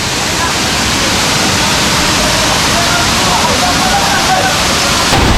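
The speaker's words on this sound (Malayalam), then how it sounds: "ഭയങ്കര കാറ്റും നല്ല കിടിലൻ വെള്ളച്ചാട്ടം ഉണ്ട് കേട്ടോ" Waterfall at Kappimala in Kannur, a loud, steady, close roar of falling water with wind that fills the whole stretch without a break.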